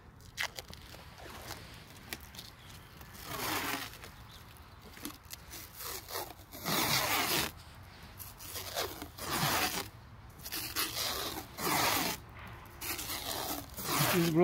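Grafting tape is stretched and wrapped around a walnut graft outdoors, giving repeated crackling, tearing bursts that come and go in uneven pulses.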